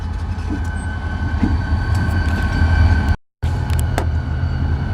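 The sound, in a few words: freight train passing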